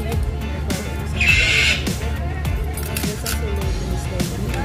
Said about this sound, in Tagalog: Oh, narinig yung ibon.